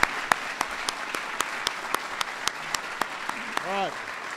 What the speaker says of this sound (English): So give them a big round of applause.